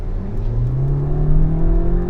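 A Volkswagen Jetta TSI 2.0 Highline accelerates from 55 km/h, its engine pulling in a steady rising drone with a whirring tone that climbs gradually, heard from inside the car with no talking.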